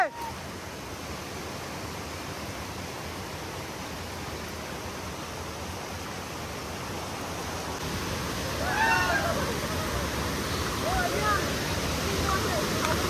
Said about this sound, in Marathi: हा इथं खाली धबधबा आहे